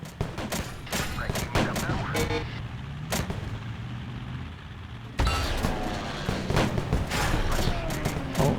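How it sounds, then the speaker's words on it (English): Repeated gunshots ring out nearby in sharp bursts and scattered volleys over a steady low rumble inside a tank with no soundproofing, growing louder and denser in the second half. "Somebody over there shooting."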